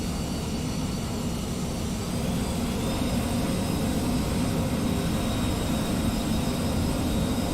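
A Cessna C510 Mustang business jet climbs in a flight simulator game, its engines giving a continuous, steady broadband roar that stays even and unbroken throughout.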